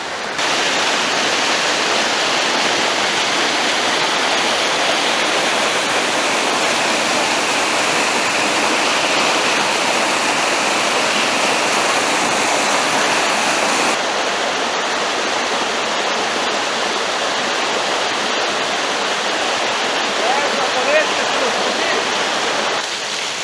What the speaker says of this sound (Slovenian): Še enkrat prek struge,